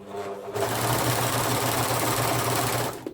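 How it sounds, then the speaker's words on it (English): A sewing machine stitching fabric for a top, starting up after a brief quiet hum and running at a steady fast buzzing whir for over two seconds before stopping, loud and close. "keep stitching until the black comes through"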